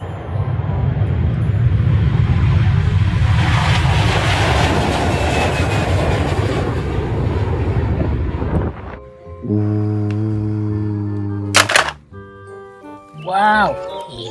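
A toy airplane makes a loud continuous whirring engine roar for about nine seconds, then cuts off into tinny electronic toy tones and a short voice.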